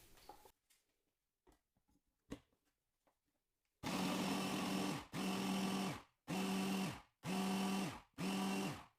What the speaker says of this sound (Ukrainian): Цибулю нарізаємо кубиками або подрібнюємо в блендері.